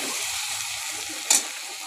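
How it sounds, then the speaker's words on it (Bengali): Turmeric powder stirred into food frying in a pan for a Bengali jackfruit and prawn dish, heard as a steady hiss of sizzling oil with one brief utensil clink near the end. "হলুদ গুঁড়ো দিয়ে দিলাম। এবার নেড়ে নেব।"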